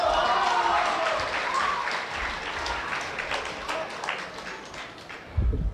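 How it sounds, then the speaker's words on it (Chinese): An audience applauds a crosstalk comedy performance, a full burst of clapping that gradually thins and fades toward the end. "感谢您的掌声鼓励"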